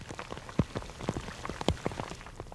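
Rain patters onto a surface outdoors on a cold, windy spring day, with separate drops landing in an irregular scatter, close and fairly quiet.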